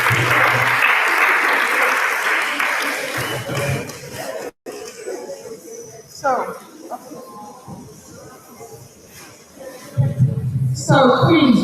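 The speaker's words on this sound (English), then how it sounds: "Round of applause for her" Applause from an audience at a Queen's College event, a steady broadband wash of clapping through the first few seconds, then fading into quieter murmuring, with a renewed burst of clapping near the end.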